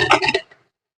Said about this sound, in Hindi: क्योंकि बर्तन ना खटखट खटखट खटखट तो करते ही हैं।